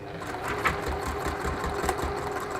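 A sewing machine stitches around a zip on fabric, a steady rapid mechanical whirring and clatter at close range, with no talk.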